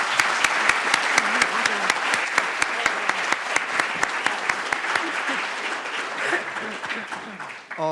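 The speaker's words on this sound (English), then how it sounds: "Let's give a round of applause" Audience at a Federal Reserve research conference policymaker panel claps steadily, a dense and sustained round of applause that carries on for several seconds before thinning out at the end.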